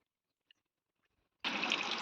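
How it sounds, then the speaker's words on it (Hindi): Water gushing steadily from a pipe connected to an air cooler in a mud house, starting abruptly after near silence and flowing loud and close for the rest of the clip. "पाइप से सीधे पानी वहाँ जा रहा है।"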